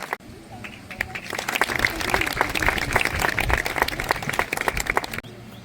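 Applause from an audience at a student award ceremony in Kadachh village, a sustained burst of clapping that swells and then cuts off, with a voice speaking over it.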